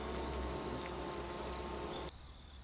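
Japanese honey bees buzz in a faint, steady drone that cuts off abruptly near the end.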